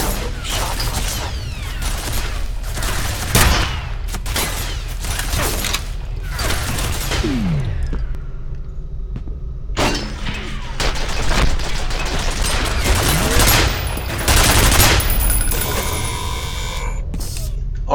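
Automatic defense turret gunfire in the video game FEAR, as bursts of rapid shots and mechanical whirring that come in loud, close waves with a short lull midway, while a voice speaks over it.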